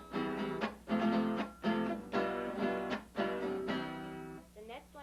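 A guitar strums a huapango rhythm, bursts of bright chords in a lilting, syncopated pattern with short gaps between groups, heard alone at moderate distance and fairly quiet.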